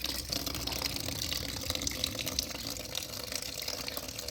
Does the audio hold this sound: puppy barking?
no